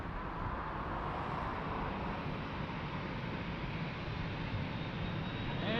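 An airplane on final approach at Lisbon Airport, a broad, steady engine roar heard from a distance with no distinct pass-by, continuous and moderately quiet throughout.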